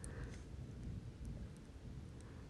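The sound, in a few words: thunder and rain at night in Bologna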